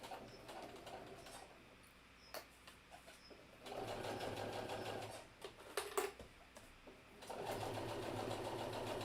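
A sewing machine runs in three short bursts while sewing a few back stitches on a hidden-zipper pillow, with quiet pauses between runs and faint clicks and handling in the gaps.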